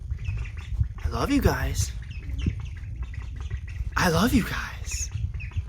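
Ducklings squawk and peep nearby in short, shrill bursts, with two louder rising calls, while a person speaks softly over them.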